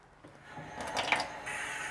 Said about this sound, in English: you can add like half a measuring cup of water as well